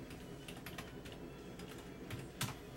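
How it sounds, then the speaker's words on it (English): Typing on a computer keyboard while entering invoice details, a quick run of soft key clicks close by with a few louder strikes near the end, no talking. "we're gonna type in registration"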